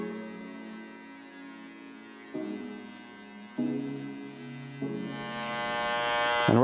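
Electric hair clippers with the blade lever down cutting a low skin fade, a steady buzzing hum whose pitch shifts in steps as the clipper is worked against the head, growing brighter at the end.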